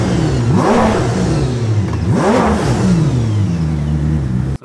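A 2012 Lexus LFA supercar engine snaps from idle to 7,800 RPM in two sharp, loud revs that rise and fall, followed by a steady idle, heard close and without talk.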